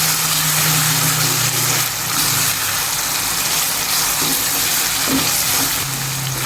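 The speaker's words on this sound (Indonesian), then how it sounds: "Lalu kita aduk sampai tercampur rata." Spices, sugar and coconut milk stirred together in a hot pan make a loud, continuous sizzle with soft scraping of the utensil running through it.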